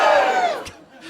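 A comedy audience at a Tom Ballard stand-up show bursts into loud cheering and shouting, peaking at once and fading within about a second.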